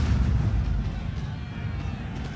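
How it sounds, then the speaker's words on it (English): Cannon firing grape shot in Napoleon Total War, a dense continuous low rumble of battle booms and blasts throughout, loud and without clear separate shots. "But I'll still probably be able to take out a good portion of men with my grape shot."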